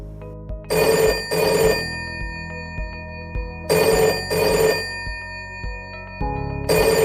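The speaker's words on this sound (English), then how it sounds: "your phone is ringing" A telephone bell rings in repeated double bursts, loud and close, with gaps of quiet between each pair of rings; no one speaks.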